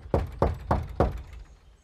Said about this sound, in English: I heard the big bang in the door